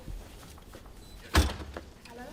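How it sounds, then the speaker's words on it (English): A front door is opened during an early-morning police raid on a home, with one sharp thud or clunk midway through and quiet room noise with faint voices before and after. "Open the door."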